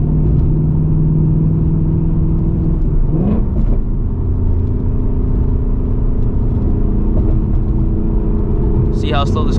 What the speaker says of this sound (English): See how slow this car is.